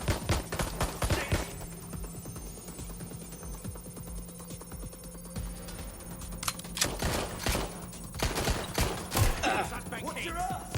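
Sustained rapid bursts of gunfire in Watch Dogs Legion, with dense rattling volleys at the start and again near the end, loud and close, with game voices and effects in between.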